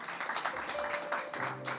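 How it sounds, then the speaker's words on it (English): An audience at a church service applauds in a steady, fairly soft wash of clapping that continues throughout, heard at a moderate distance with no talking over it. "That's a round of applause."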